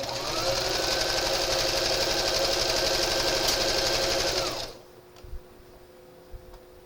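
A sewing machine stitches thin knit straps in a fast, even mechanical chatter that runs loud and steady for several seconds, then stops abruptly, leaving a few faint handling clicks.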